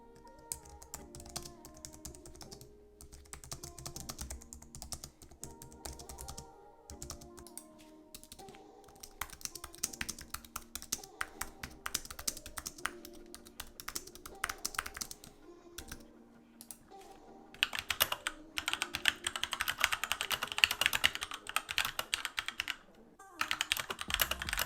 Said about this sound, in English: Here's a little sound test comparison between the MX keys and the Magic Keyboard for what it's worth.